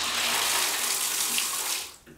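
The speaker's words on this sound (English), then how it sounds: "turning on the water to the faucet. Hot. And it's running." Hot water gushes from the faucet of a 1920s Kohler clawfoot bathtub, a loud steady hiss of running water lasting about two seconds before it cuts off.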